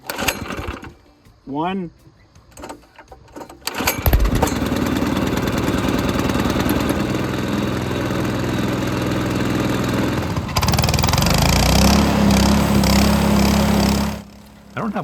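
A Frontier OS18 portable sawmill's small engine being pull-started after a month unused, catching and settling into a loud, steady running drone that holds for about ten seconds and rises slightly near the end. A voice is heard briefly beforehand.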